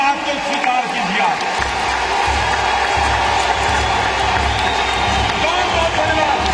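A large crowd at a political speech by PM Modi claps and cheers loudly and continuously, with a voice speaking over the applause throughout.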